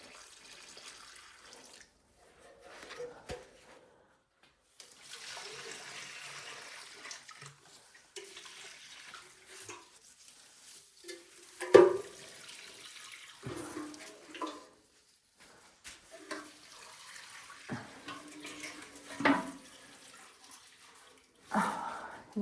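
Water pours from a big, heavy watering can onto dry conservatory plants in uneven bursts, with splashes and trickling between quieter pauses, all close by and fairly soft.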